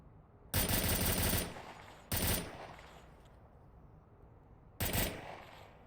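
Loud automatic gunfire in the VR shooter game Onward during a competitive match, three sharp bursts with the third brief, over a low, steady background.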